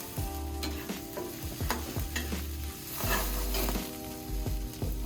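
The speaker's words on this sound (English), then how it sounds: "We're gonna lay our egg down. Cook off." An egg fries in a pan, a soft continuous sizzle under repeated scraping and tapping of a spatula, fairly quiet and close, with no talking.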